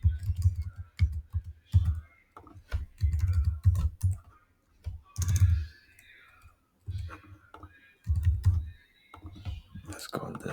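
Quick bursts of typing on a computer keyboard while test card details are entered, with close irregular key clicks over a low hum, and a voice speaking softly at times.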